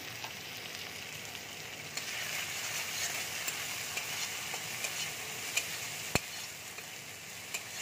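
Chili powder, cumin, garlic and ginger paste fried together in a pan, a steady close sizzle with stirring scrapes and a sharp clack of the spoon near the end.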